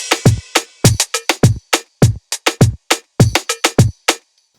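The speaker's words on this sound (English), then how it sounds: "So when you play all those together, the drums sound like this." A programmed reggaeton drum loop from Logic Pro: punchy kicks and crisp snare and hat hits in a steady syncopated dembow pattern, loud and dry, ending after about four seconds.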